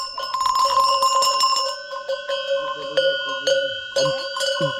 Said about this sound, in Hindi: तो ये वाली घंटियाँ हैं भाई, और ये घंटियाँ ये वाली है।